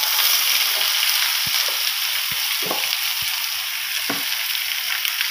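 Onions sizzle and fry in a hot pan for pork sisig, a steady crackling hiss with occasional stirring scrapes close by, no voices.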